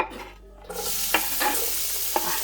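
Chopped onion, hot pepper, scallion and garlic hit hot oil in a pot on the stove. A sudden sizzling hiss starts and holds steady, with a few light clinks of stirring, close and without talk.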